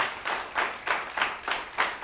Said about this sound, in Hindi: तालियां जोरदार हो जाएं।